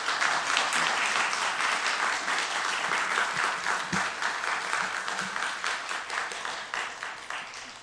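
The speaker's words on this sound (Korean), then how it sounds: "나오실 박수로 환영해 주시기 바랍니다." Sustained applause from a church congregation welcoming a guest preacher, a dense wash of many hands clapping that holds steady and then slowly thins toward the end.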